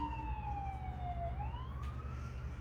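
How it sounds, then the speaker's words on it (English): A siren wails at a distance outside a hospital, its pitch sliding down then rising again over a low steady rumble of traffic. "You probably hear the siren in the background"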